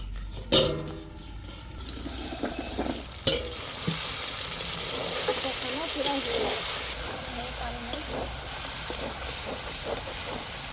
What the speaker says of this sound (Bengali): এবার ঢাকনাটা তুলে নাড়াচাড়া দেবো